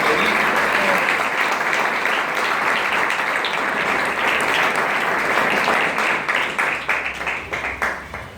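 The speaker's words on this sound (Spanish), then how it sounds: "Denle palmas fuertes a Cristo." A church congregation claps hands loudly and steadily during a worship service, a dense wash of applause that grows more ragged and tapers toward the end.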